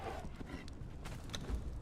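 A horse's hooves clip-clop in Conan Exiles, a short soft patter of steps, fairly quiet and close, with no talk over it.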